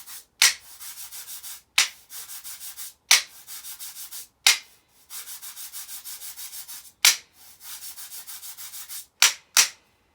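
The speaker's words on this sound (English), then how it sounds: "Next instrument are scrapers. These can be used to make different sounds." Percussion scraper played in long rasping strokes, each opening with a sharp attack and then a steady ratcheting scrape, repeated about eight times at an uneven pace, close and clear with no voices.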